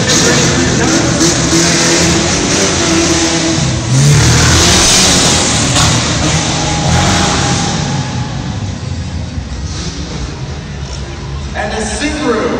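Tuff trucks race at an outdoor motorsport event, their engines revving loudly and continuously for the whole stretch, with a crowd and a commentator's voice mixed in under the roar.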